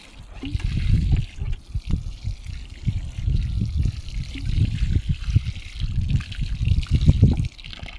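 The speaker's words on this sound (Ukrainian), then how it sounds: "Добренько цю ямку проливаємо водою." Water pours and gurgles into a planting hole in the soil for a Danica thuja, a close, steady splashing stream lasting several seconds.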